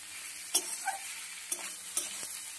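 Ol stems (elephant foot yam stalks) being stirred and fried in a pan with fried shrimp, giving a soft steady sizzle broken by a few light scraping stirs, close and fairly quiet, with no talking.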